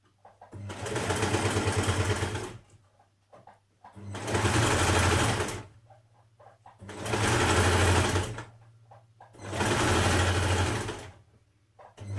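Sewing machine stitching small hems on the sides of a dress vent, sounding as four close bursts of rapid mechanical whirring, each a couple of seconds long, separated by short pauses with faint handling noise.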